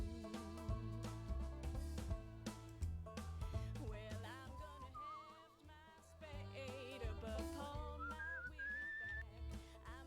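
A whistled melody from the game Where the Water Tastes like Wine drifts over a layered musical backing, rising and gliding through several phrases for about ten seconds, with no voices.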